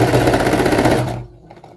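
A sewing machine stitches a children's festa junina apron in a steady rapid run for about a second, then stops.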